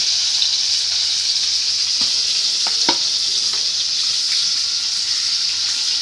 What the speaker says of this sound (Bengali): এখানে চিকেন ফ্রাই ভাজা হচ্ছে।